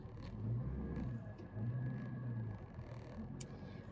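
A car engine rumbles behind a family out for the day at Cilaos on Réunion island, a faint, low drone that swells and eases in a few slow waves.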